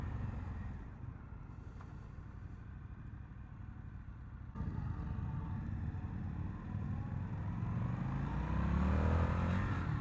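A 2022 Indian FTR R Carbon motorcycle being ridden, a low continuous engine drone with heavy wind rumble that steps up in loudness partway through and keeps building, heard from the rider's position.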